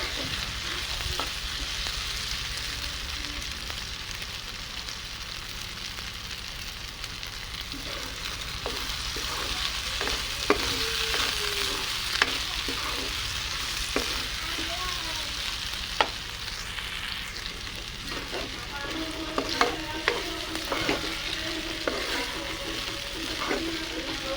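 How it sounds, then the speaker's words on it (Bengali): Soybean chunks frying in oil in a pan, giving a continuous close sizzle broken by frequent clicks and scrapes of stirring that grow busier toward the end, with no talking. "আর একটু তেল দিয়ে সয়াবিনগুলো ভেজে নেব"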